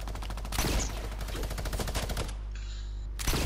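Rapid automatic gunfire in Fortnite Creative mode: a dense burst of quick evenly spaced shots, a short pause, then a final crack, loud and close with no voices.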